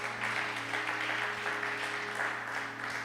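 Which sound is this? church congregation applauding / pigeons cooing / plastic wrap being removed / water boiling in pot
church congregation applauding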